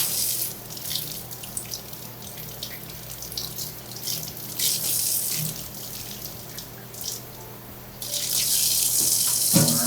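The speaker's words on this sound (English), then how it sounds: "Make sure you're rinsing off the other pieces too." Pieces of a cold brew coffee vat are rinsed under a running tap, with water splashing and gushing steadily, growing louder in bursts and surging near the end.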